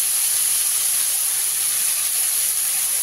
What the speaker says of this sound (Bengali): চিংড়ি মাছগুলো দিয়ে গ্যাসের ফ্লেমটাকে হাইতে দিয়ে খুব অল্প সময়ের জন্য ভেজে নিতে হবে চিংড়ি মাছগুলোকে।